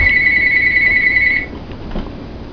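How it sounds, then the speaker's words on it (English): An electronic phone ring trills loudly for about a second and a half in a home kitchen, then cuts off, leaving a quiet room. "the phone is ringing"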